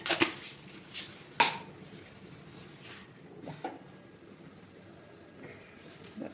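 Onions are chopped in a kitchen chopper, with a few sharp, quick clattering bursts near the start, then quieter scattered knocks over soft background noise.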